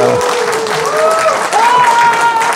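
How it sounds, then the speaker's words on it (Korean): An audience at a book concert for politician Won Yoo-chul bursts into loud, dense applause that holds steady for the whole stretch, with a voice sounding faintly over the clapping. "자, 우리 원유철 대표를 박수로 환영하겠습니다."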